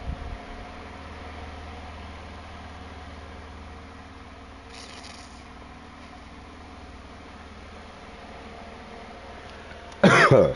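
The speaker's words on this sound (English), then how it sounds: "Don't mind me coughing, y'all." A person coughing and clearing their throat close by, a single brief loud burst near the end after a long stretch of steady low background hum.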